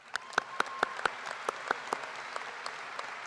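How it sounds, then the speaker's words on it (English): Scattered hand claps from an audience at a high school graduation ceremony, a handful of sharp separate claps rather than a full ovation, fading out over a steady room hum. "Parents, let's clap for that, right?"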